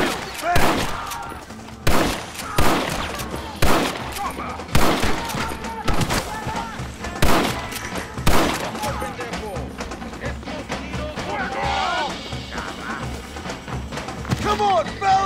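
Gunfire in the video game Red Dead Redemption: repeated sharp shots and bursts at irregular intervals, some close and loud, with voices heard between the volleys.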